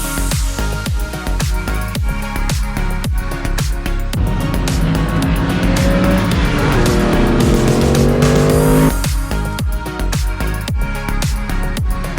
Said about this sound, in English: What an amazing race here from these 6 cars.